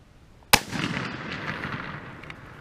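A single loud, sharp rifle shot from an M98/29 Persian Mauser cracks out close by, followed by a long, rolling echo that slowly fades over the next two seconds.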